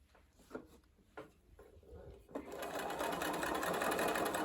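Scattered handling taps and a voice come first, then a sewing machine stitching a doll dress starts up and runs in a steady, close whir to the end.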